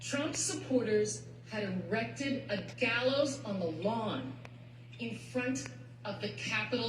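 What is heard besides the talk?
None of the usual background noises is heard.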